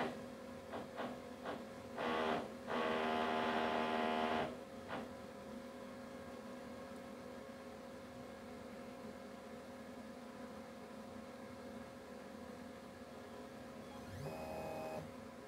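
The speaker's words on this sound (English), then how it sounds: "So now the Micromill is automatically measuring the thickness of the sample." A Micromill sampling a fish otolith automatically measures the sample thickness, giving a few short mechanical whirs and one longer motor buzz over steady equipment hum, nearby and alone, with no speech.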